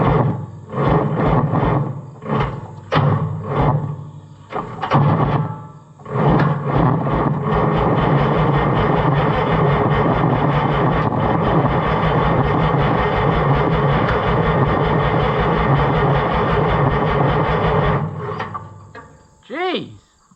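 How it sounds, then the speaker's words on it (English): White 2-70 gas tractor engine with a leaking carburetor cranking in several labored bursts, then catching and running with a steady loud rumbling idle for about ten seconds before shutting down. "I don't know why this motor turns over so hard."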